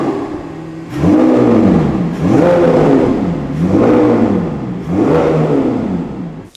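A Lamborghini Aventador SVJ with its V12 and Gintani exhaust revs loudly and close up, producing four or five rising and falling bursts in a steady rhythm with no talk.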